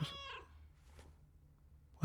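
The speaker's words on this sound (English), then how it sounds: "Did he just meow? Was that the cat flip ability?" A short, high cat meow from the Fortnite cat flip ability rings out close up, followed by quiet, then a brief thump at the end.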